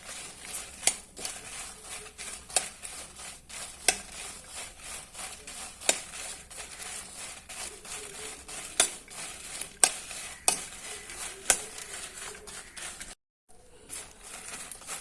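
Masala frying over a low gas flame for a Mangalorean mackerel coconut curry, with a steady soft sizzle, frequent scraping stirs and light clatter of a spoon in the pan, close up with no talking.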